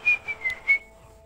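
A Fortnite game character whistles a short tune of four quick chirping notes, moderately loud and close, followed by a quiet tail of faint game ambience.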